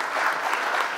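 A crowd at a football fair-play trophy ceremony in Alsace applauds the AS Holungen club. The clapping is loud, dense and close, and carries on steadily through a short burst.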